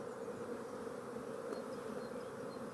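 Steady, even buzzing of many honey bees around stacked multi-story beehives during a June hive inspection, a soft continuous drone with no voices.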